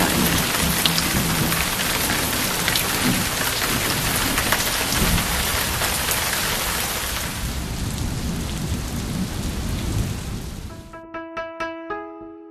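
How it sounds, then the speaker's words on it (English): Heavy rain pours down in a village in Laos, a loud, dense roar of water drumming on surfaces that eases toward the end, where a few tonal notes sound. "And as we arrived, so did the rain."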